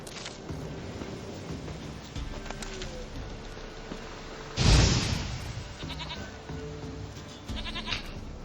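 A goat in the video game The Witcher 3 bleats several times, with one loud close cry in the middle among softer calls, over a quiet game ambience.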